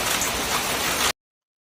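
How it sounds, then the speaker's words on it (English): Falling hail makes a dense, loud rush of pelting noise for about a second before cutting off abruptly into silence. "Here's some hail."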